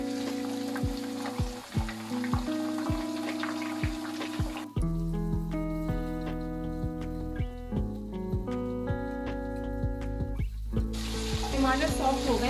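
Two tomatoes sizzle in an oiled pan for a dhaba-style mixed vegetable curry, with a steady, close frying hiss and light stirring running beneath background music.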